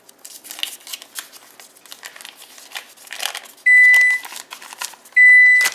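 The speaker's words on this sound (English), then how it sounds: "It's my oven telling me it's hot." An oven beeps twice to signal it has finished preheating, each beep a sustained electronic tone about half a second long, sounding over soft kitchen rustling and clatter.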